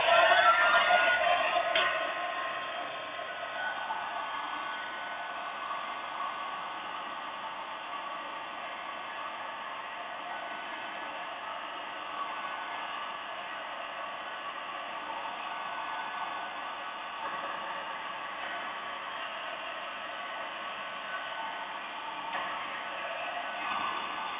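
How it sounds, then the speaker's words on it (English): A heat gun on its low setting roars steadily with a constant airy hiss, slightly louder at the start, then holding an even level throughout. "I'm going to use this heat gun on the low setting"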